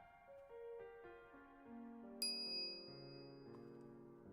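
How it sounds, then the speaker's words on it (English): A microwave oven chimes in the visual novel game Steins;Gate, inside a lab. A soft ding rings out over a quiet, slowly descending melodic background, clear but not loud, with no voices. "I'm greeted by the chiming of a microwave oven"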